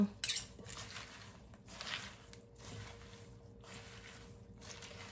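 A salad is tossed with olive oil dressing, soft wet squishing and the light clink of utensils against a bowl, close and quiet with gentle irregular motion.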